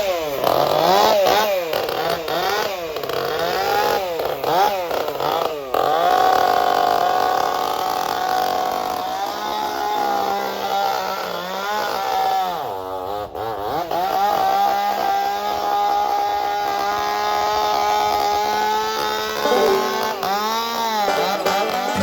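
A chainsaw revs loud and close while carving at a sprint car racing event, its pitch swooping up and down as the blade bites and eases, running almost continuously.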